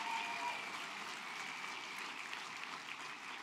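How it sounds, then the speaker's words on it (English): Soft, distant applause from the audience at the 2014 New York Democratic Convention, a continuous hiss of many hands that stays even from start to finish. "Let's give her a round of applause."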